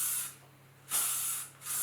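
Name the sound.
hairspray being sprayed on hair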